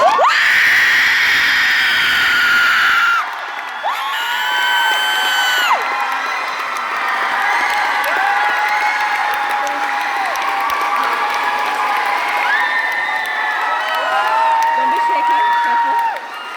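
A large audience at a book tour event in Toronto screams and cheers continuously, a loud sustained roar of high-pitched shrieks and whoops with clapping mixed in, rising and falling throughout.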